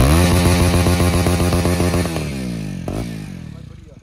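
A motorcycle engine revs up close, loud with a strong droning tone. The pitch shifts as the throttle changes, a sharp blip comes near the end, and the sound then eases down.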